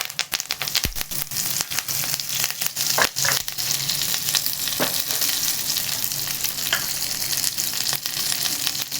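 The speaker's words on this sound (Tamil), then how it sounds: "கொஞ்சம் கருவேப்பிலை போட்டுக்கோங்க." Curry leaves hit hot oil in a pan for semiya kichadi, giving a loud, close sizzle and crackle with sharp spits and stirring scrapes throughout, no voices.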